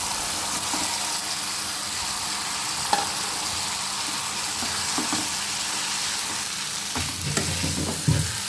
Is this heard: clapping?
no